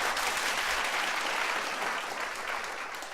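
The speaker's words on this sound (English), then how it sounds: "let's give him a round of applause." Audience applause at a bicycle master plan open house, a dense wash of many hands clapping at once. It is steady and moderately loud, then tapers slightly over a few seconds.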